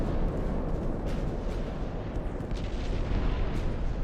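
Warship secondary guns in Ultimate Admiral: Dreadnoughts pound away at destroyers in a rapid, overlapping barrage of booms and cracks, continuous and loud throughout, with brief sharper reports breaking through near the end.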